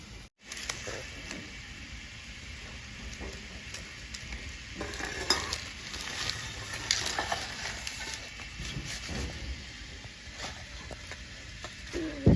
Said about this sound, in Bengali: মাছটা আমি উল্টিয়ে দেবো